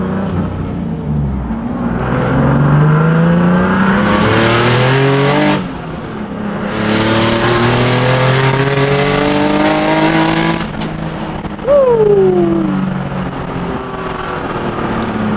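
A Nissan 370Z Nismo fitted with a Z1 Motorsports under shroud drives at high speed. The engine drones loud and steady through rising gears with a brief lift between shifts, and wind and road noise run underneath.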